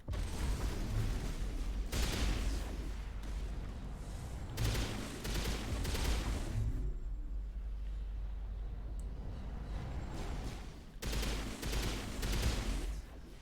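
Rapid bursts of automatic gunfire from a weapon in Mass Effect Legendary Edition, loud crackling volleys separated by short gaps, over a constant low game-ambience drone.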